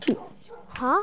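A tamed wolf dog in Minecraft gives a short yip, then a longer rising whine, close and clear over players talking.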